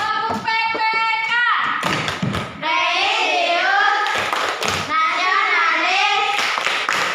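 A school class claps for a student group at the end of a lesson. Dense, close hand clapping comes in bursts between loud children's voices chanting and calling out together.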